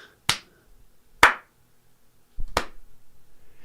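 Three sharp, isolated single hand claps ring out about a second apart in a quiet room, each a crisp near crack with a brief decay, followed by faint soft tapping.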